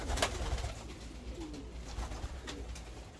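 Soft, low pigeon coos repeat outdoors against steady background noise, fairly close and gentle, with no talking.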